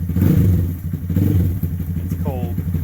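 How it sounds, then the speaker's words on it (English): A cold Honda Grom SF fitted with an Adonli Racing dual high-mount exhaust runs up close, a loud, steady, throbbing exhaust note with a clattery edge and a brief squealing whine near the end. "So I've had this Adonli Racing dual high mount exhaust on here for a while."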